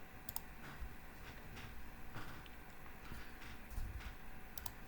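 Quiet computer keyboard typing, a soft irregular run of light key clicks heard close up over faint background hiss, with no voices.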